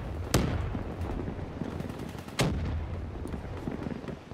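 Two sharp, loud gunshots crack about two seconds apart in a Black Ops 3 deathmatch, set against a constant rumbling game background of distant firing and noise.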